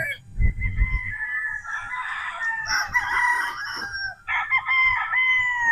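A straight comb gamecock rooster crows loudly and close by in a long, wavering call, then starts a second crow. A low thump and some rustling come just before the first crow.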